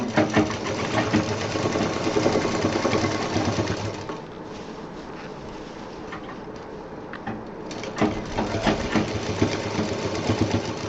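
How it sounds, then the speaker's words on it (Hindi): Sewing machine running in steady bursts as it stitches along the handle of a handbag, a loud continuous mechanical whir that pauses briefly midway and then resumes. "अब यहाँ हैंडल पर से हम मशीन चलाएंगे एक चाप की दूरी पे।"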